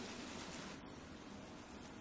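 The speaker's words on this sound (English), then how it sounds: "It's a waterfall. There's a waterfall." Broadband rushing water pours continuously from a waterfall in the survival video game The Forest, a dense, steady roar that fills the scene without any break.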